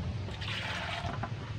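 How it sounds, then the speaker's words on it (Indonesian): Water splashes and trickles softly as a bougainvillea plant is watered until the soil is thoroughly soaked, a brief steady pour close by. "Yang penting sampai benar-benar basah dia. Kita siram lagi"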